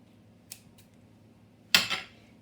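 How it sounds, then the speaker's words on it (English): Kitchen scissors snip ham onto a pizza in two quick, close cuts, a faint first snip followed by a sharper, louder one in an otherwise quiet kitchen. "get a pair of scissors, and then kitchen scissors, and snip your ham"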